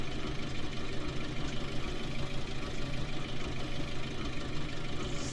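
A loader tractor engine runs steadily at a dense, even drone during bale carting, close and continuous with a low rumble throughout and no voices.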